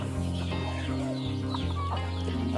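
Thai native chickens, young birds around three and a half months old, clucking steadily at close range, with soft overlapping calls across the whole moment and no talking.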